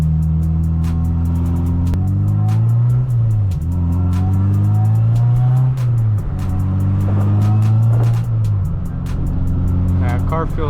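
A car on newly fitted wheels drives with a steady engine drone that rises and falls through gear changes, with faint tire rub and road noise and a regular ticking throughout, heard from inside the car.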